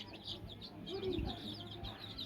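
Country chicks waiting to be fed tomato give soft, repeated high chirps throughout, close by. Someone speaks quietly underneath the chirping.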